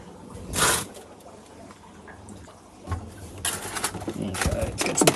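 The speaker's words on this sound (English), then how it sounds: "we're starting to expel that air, and we're starting to suck a bit of water through into the unit and fill the chuck underneath" An Oase Biomaster aquarium filter's primer pushes air out as water is drawn into the unit and fills the chamber underneath. Bursts of gurgling and squelching come close up, growing busier and louder toward the end.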